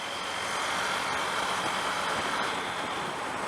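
A motorbike overtakes another vehicle on the road, a steady, close roar of engine and rushing wind running unbroken throughout.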